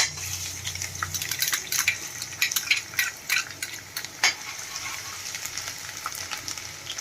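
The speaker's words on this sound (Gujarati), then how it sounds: "તો આપણું તેલ એકદમ સરસ ગરમ થઈ ગયું છે તો આપણે એમાં લસણની કળીઓ એડ કરી દઈશું" Garlic cloves in hot oil in a Gujarati home kitchen, sizzling steadily with scattered clicks and scrapes of a stirring utensil against the pan, close and moderately loud throughout.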